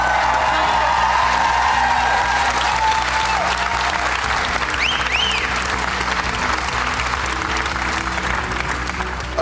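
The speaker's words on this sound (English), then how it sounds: "Everyone will give you a really big round of applause." A large studio audience at a televised talent show, a magicians' final, bursts into loud, sustained applause with scattered cheers and whistles, a continuous dense roar of clapping that carries evenly from start to finish.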